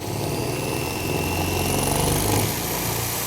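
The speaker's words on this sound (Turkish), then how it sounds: "Bu şekilde yerleştirdikten sonra delme işlemine geçebiliriz" A power drill bores through ceramic tile at a joint gap. A loud, steady motor whine runs close up for the whole stretch, with a gritty grinding underneath and no voices.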